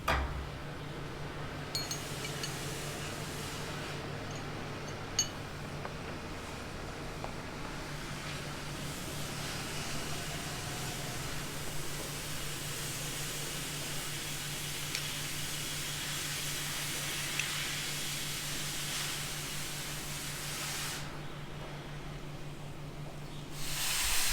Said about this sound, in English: Brake cleaner for the win.